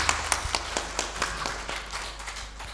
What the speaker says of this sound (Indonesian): Beli apresiasi dan tepuk tangan yang meriah untuk Mas Pram.